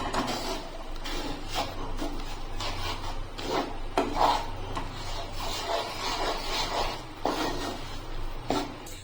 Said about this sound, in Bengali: এখন আমি চিনির রসটা ময়দার মধ্যে ঢেলে দিচ্ছি। এখন ভালো করে মিশিয়ে নেব।